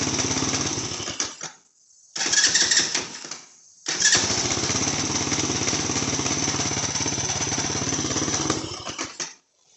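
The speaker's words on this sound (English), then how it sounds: "Now we can go ahead and test our new starter." The new starter motor on a small Chinese ATV (Taotao, Coolster, Roketa or SSR) cranks in a short burst, cranks again, and then the engine catches and runs with a loud, rapid buzzing idle before cutting off.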